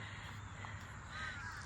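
Crows caw outdoors, a couple of rough calls over a steady background hum, moderately close, with no talking.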